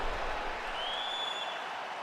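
An arena crowd in the video game UFC 4 makes a steady, fairly faint roar of cheering and clapping, spread evenly throughout with no clear voices.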